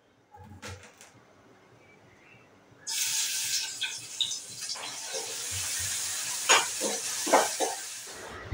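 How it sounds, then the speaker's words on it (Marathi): Whole spices hit hot oil for a Marathi home tempering, bursting into a sudden loud sizzle after a few quiet seconds of faint kitchen clatter, then crackling and spitting unevenly with sharp pops. "आता मी फोडणी मारून घेते."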